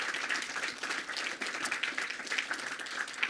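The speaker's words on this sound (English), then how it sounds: "Please give a round of applause to our panel members." An audience applauds panel members at a Melbourne space discussion event, with steady, dense clapping close by that holds without a break for a few seconds.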